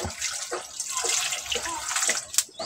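Water pours and splashes steadily into a pot for boiling bananas, close and continuous, with faint voices in the background.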